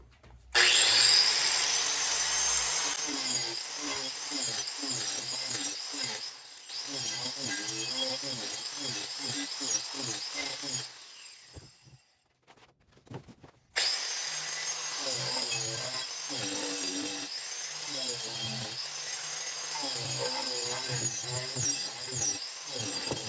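An angle grinder cuts and shapes wood to carve a wavy flag contour, grinding in repeated rasping strokes with a short pause midway, then resuming, close and fairly loud, with no talking.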